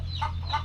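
A chicken clucks twice in quick succession, close and clear, over a steady low hum in the background.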